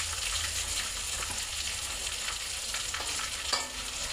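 Meat fries and is stirred in a pan for a birthday meal, a steady close sizzle with occasional scraping strokes of the spoon and no talking.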